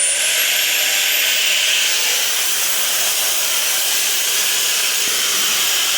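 A Fanttik BF10 Pro cordless blower runs on its turbo high setting clearing light and wet snow, a loud, steady, close rushing roar of air that holds unbroken throughout, with a faint rising whine near the start.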